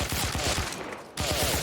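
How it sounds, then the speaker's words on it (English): A heavy machine gun fires in a free video game, a rapid steady stream of loud close shots with a brief pause before the burst resumes. "We'll go ahead and we'll utilize this heavy machine gun for a bit just to show it off."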